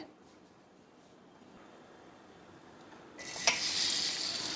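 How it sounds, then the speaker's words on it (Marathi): Chopped onion hits a spoonful of hot oil on an iron tawa over a gas flame. After a quiet start, a loud, bright sizzle bursts in and keeps crackling steadily. "गॅसवरती मी लोखंडी तवा ठेवलेला आहे आणि 1 चमचा इतकं तेल घातले. आपल्याला यावरती कांदा भाजून घ्यायचा आहे."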